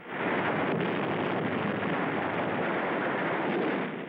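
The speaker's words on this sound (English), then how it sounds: "grenades" Grenade blasts in 1943 WWII combat footage from the battle of Tarawa, a continuous loud roar of explosive noise filling the whole stretch, dense and rumbling without distinct separate bangs.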